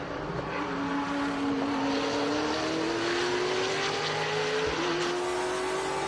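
Race cars near the finish line at the VIR SpeedTour, a steady engine drone with a rising tonal whine from an approaching car, loud and sustained against a constant background roar.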